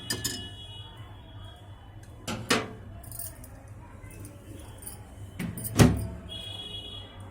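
A bowl is set into a microwave and its door is handled, giving a few sharp clicks and knocks spaced apart in a quiet kitchen.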